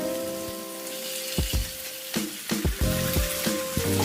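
Marinated, fried chicken and tomatoes sizzle in a pan while a utensil scrapes and knocks against it in irregular strokes, the crackle of frying running steadily underneath.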